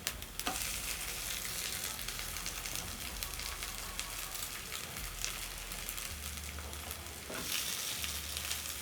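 Hash browns fry in a pan with a steady, dense sizzle throughout, close and loud, with a few brief scrapes as they are flipped.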